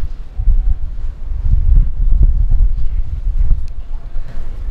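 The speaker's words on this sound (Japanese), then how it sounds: "そよそよ風が吹いてて気持ちいいですね" A gentle breeze buffets the microphone outdoors in Hiroshima, a steady low rumbling whoosh that rises and falls in soft gusts with faint rustling over it.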